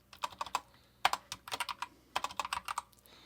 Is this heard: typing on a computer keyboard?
yes